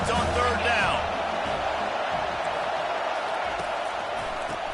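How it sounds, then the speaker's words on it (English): Football stadium crowd at a USC versus Rutgers game on third down, a loud sustained roar filling the clip with a whistle-like call early on. "Decibels rising as the crowd gets behind this defense on 3rd down."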